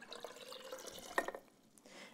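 Water is poured into a jar with vinegar, sugar and salt for a red onion pickling brine, a brief soft trickle and splash, close but faint, lasting under two seconds.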